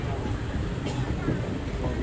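An express train rounds a curve onto the Gudur line in India, giving a continuous low rumble and rattle of carriages that stays steady and close throughout.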